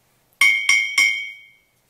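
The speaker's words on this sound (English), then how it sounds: "When I strike the bottle, a bottle that has more liquid in it, the liquid kind of impedes the vibration of the glass" Three quick ringing strikes on a glass bottle partly filled with liquid, each a bright clear ping that rings on and fades, heard alone with no talk.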